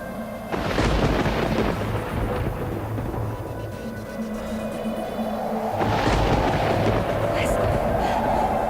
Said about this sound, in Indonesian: Tidak biasanya ada badai sebesar ini.